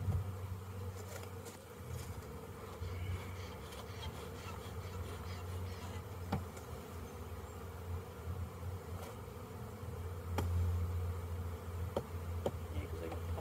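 Honeybees buzz in a steady, dense drone in front of a hive, with occasional faint clicks and taps over the continuous hum.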